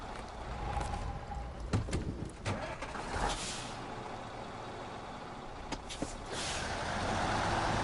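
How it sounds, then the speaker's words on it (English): Trucks driving in SnowRunner in the Amur Oblast region, a steady engine drone with hissing bursts and clanks, continuous and fairly loud, swelling toward the end. "caught back up to my other truck. Now let's try and get these across the river without losing the cargo."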